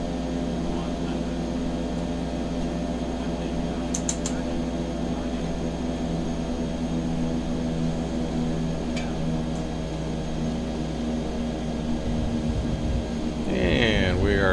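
An Epic E1000 single-engine turboprop touching down on a runway in the X-Plane 11 flight simulator, a continuous droning engine hum with steady tones, shifting and rising at the end as power changes.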